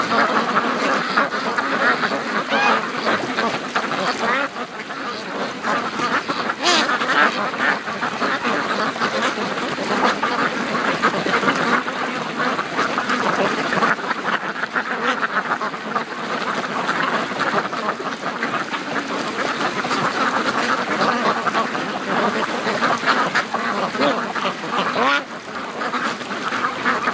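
Free-range ducks, Muscovies among them, keep up a steady, loud chorus of overlapping quacks nearby beside icy water, unbroken for the whole stretch.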